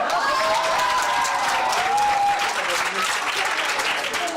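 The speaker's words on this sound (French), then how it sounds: "On peut vous applaudir." On a short-film set, a small group applauds with brisk, continuous clapping of moderate loudness, while voices chatter over it.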